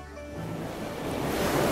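Ocean surf breaking on an Algarve beach, a steady broadband wash that swells louder toward the end, with no voices over it.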